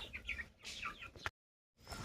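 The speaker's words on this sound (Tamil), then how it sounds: "ஒரு வழியாக இந்த கிண்ணி கோழியும் கருப்பு கோழியும் ஓட்டிகிட்டு வந்தாச்சு" Guinea fowl and a black hen being herded back toward their coop, giving faint clucks and chirpy calls in short bursts, broken by a brief silent gap.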